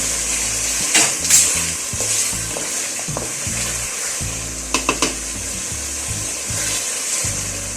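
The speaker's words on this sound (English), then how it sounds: "Put some salt and seasoning powder and just stir and taste." Beef stirred with salt and seasoning powder in a hot pan for mixed vegetables and stewed cabbage: a steady close sizzle and fry under repeated scraping stir strokes, with a few sharp utensil knocks near the middle.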